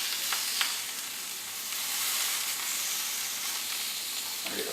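Fish fillets sear in a hot pan with a steady, dense sizzle and crackle, close and unbroken, with faint stirring taps and no voices.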